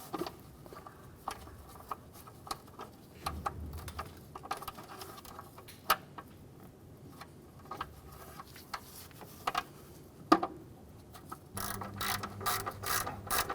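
Ratchet tightening exhaust manifold heat shield bolts on a 2012-2020 Chevrolet, a series of quiet clicking pawl ticks in irregular bursts, closing with a faster, louder run of clicks.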